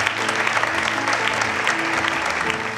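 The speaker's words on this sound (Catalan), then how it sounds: "Un bon aplaudiment." Brief burst of audience applause at a regional business awards ceremony as the first prize is announced, dense steady clapping from a hall crowd with a faint hum beneath.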